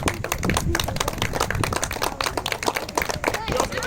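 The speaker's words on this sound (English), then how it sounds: "Let's give this young man a round of applause." A small crowd claps for a young man at a Cub Scout crossing-over ceremony, sparse sharp individual claps close by, with talking mixed in.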